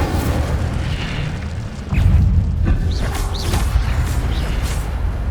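An Incendio fire spell cast in a Harry Potter video game bursts out as a sudden loud boom, then settles into a sustained rumbling roar.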